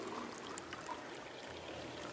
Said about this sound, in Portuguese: a gente vai colocar mais 50 ml de água